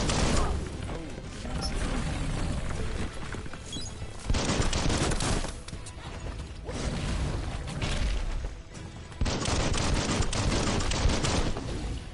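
Dense, loud bursts of gunfire in the video game Biomutant, rapid and continuous volleys swelling and easing in waves, mixed with mechanical clatter and whooshes.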